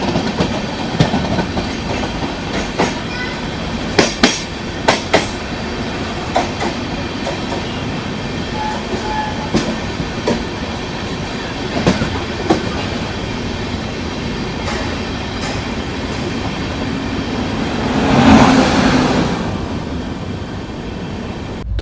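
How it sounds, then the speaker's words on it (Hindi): Amrit Bharat Express train running from Patna to Delhi passing alongside on the adjacent track, a steady rumble of rail wagons with rhythmic clickety-clack wheel beats and a louder swell near the end. "बगल से ये क्रॉस हो रही है अभी पटना से दिल्ली आने वाली अमृत भारत एक्सप्रेस"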